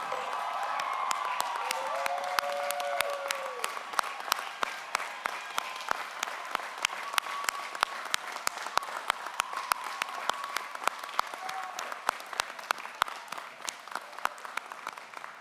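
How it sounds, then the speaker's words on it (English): A large crowd at a Hofstra University graduate commencement applauds the graduates in sustained, dense clapping for about fifteen seconds, with a few whoops and cheers rising over it early on. "can I ask for one more round of raucous applause for the graduates?"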